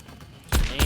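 Shotgun fired in the video game The Pit, two loud booming blasts about a quarter second apart after a quiet lead-in, each with a sharp broadband crack.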